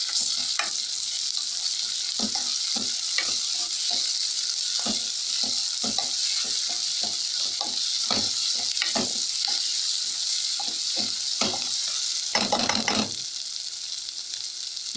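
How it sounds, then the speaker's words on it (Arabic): Tomato paste being stirred into softened frying peppers in a pan: a steady close sizzle with repeated spoon scrapes and stirring strokes, no talking. "اول ما يدبل هننزل بمعلقه الصلصه، وهنديها تقليبه كده مع الفلفل"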